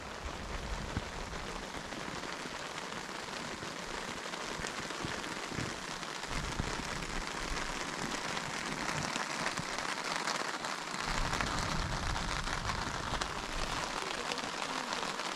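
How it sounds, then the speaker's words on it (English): Steady rain patters on surfaces at a campsite along the Under the Rim Trail in Bryce Canyon, a dense continuous hiss of drops lasting throughout with no talk. "It's raining again."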